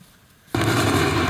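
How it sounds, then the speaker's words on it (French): A sudden loud blast from an emergency drill at a fireworks company breaks in after a quiet half second, followed by a sustained roaring, rumbling burst of noise that keeps on to the end. "De la fumée, des bruits d'explosion et des blessés."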